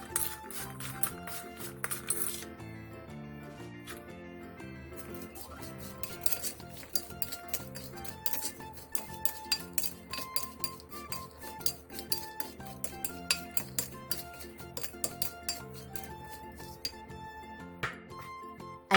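Soaked beans being mixed with salt and sugar in a bowl, a spoon clinking and scraping against the dish in a steady, close, repeated rhythm of small knocks.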